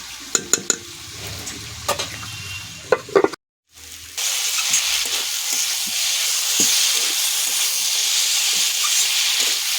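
Spiced masala frying in a pan for a small mourala fish curry with potato: a few sharp stirring knocks and scrapes, a brief pause, then a steady, loud, close sizzling hiss.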